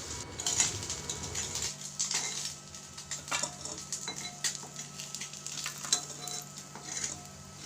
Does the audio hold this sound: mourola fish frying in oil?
yes